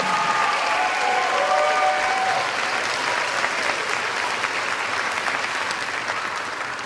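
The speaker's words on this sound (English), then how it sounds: "Can we give it up to them for another hand clap?" Graduation audience of family and friends applauds the 2024 graduates of a technical college, a broad, sustained wash of clapping from a large crowd, with a few brief tones early on, steady throughout and slowly easing.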